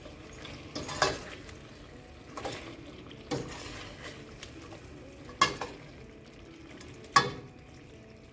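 Chicken biryani with biryani masala being stirred in a pan, a soft frying crackle running underneath with several distinct scraping stirs spaced a few seconds apart, moderately near.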